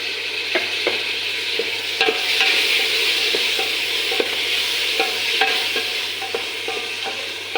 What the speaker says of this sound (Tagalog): I-mix lang siya hanggang lumambot yung kamatis niya.